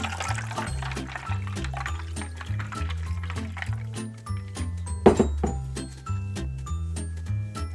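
Water pours into a glass already holding ice while making imli aloo bukhara sharbat, a steady liquid splash and fill running throughout, close by, over constant background music.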